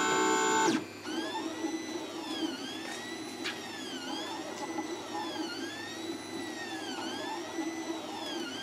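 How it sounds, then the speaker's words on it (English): An ANET ET4 3D printer runs a print, its stepper motors whining in repeating sweeping tones over a steady fan hum, close and moderate, after a short louder burst at the start; no one speaks. "Yeah, and that's printing well."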